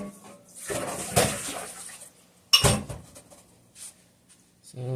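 A tool scrapes and digs the last of a baklava nut mixture out of a big pan, giving several clattering metal scrapes and clinks in bursts, with pauses between them and a voice speaking at moments.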